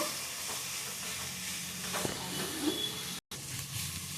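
Okra, or lady's finger, fries in a pan with a steady close sizzle and hiss, small crackles and a light stirring scrape, and one short break, with no voices.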